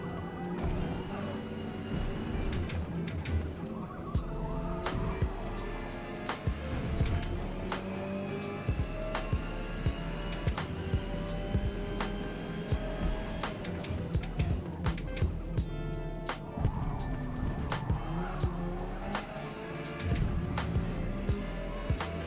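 Race car cornering in Forza Motorsport, engine droning with rapid shifts, tire scrubbing and clattering bumps over a long continuous stretch, loud and up close with little talk.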